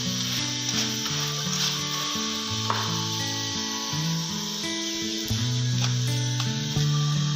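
A mooli paratha fries on a hot pan with a steady, close sizzle that runs the whole time beneath continuous background music.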